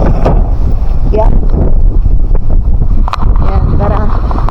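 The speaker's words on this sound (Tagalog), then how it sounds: "Ang lakas ng hangin." Strong wind buffets the microphone in continuous heavy gusts in summer in Liberec, Czech Republic, with brief voices breaking through now and then.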